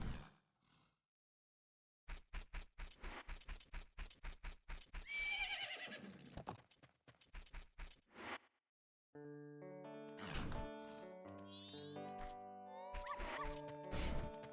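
In a video game, rapid hoofbeats clatter in a steady gallop, a horse whinnies, and then a bright, chiming musical flourish plays.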